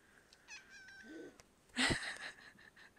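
A cat lets out a brief, harsh hiss-like yowl after some softer mewing sounds, close by with quiet room tone around it.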